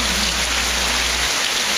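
Steady rain pours down in Morrinhos, a dense, even hiss of falling water that stays loud and constant throughout, with a low rumble fading near the end and no voices.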